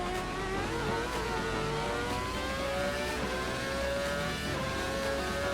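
A Ferrari engine in a racing video game on the Nordschleife revs hard and accelerates continuously, a loud, steady rising whine with gear-like pitch sweeps and no pauses.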